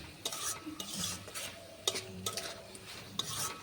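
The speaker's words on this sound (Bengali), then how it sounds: "যতক্ষণ না জলটা শুকনো হচ্ছে, এই উচ্ছেটা এইভাবে নাড়তে থাকবো যাতে আলুর সাথে উচ্ছেটা সিদ্ধ হয়ে যায়" Bitter gourd and potatoes are stirred in a pan as the water cooks off, giving repeated scraping strokes of a utensil against the pan with a soft sizzle underneath, close and moderately loud.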